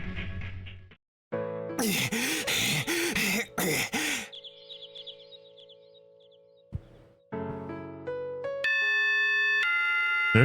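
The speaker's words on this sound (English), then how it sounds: "There's the morning bell." A school morning bell chimes in the visual novel Tsui no Sora Remake, its sustained ringing tones rising in steps near the end amid other game sound effects and music.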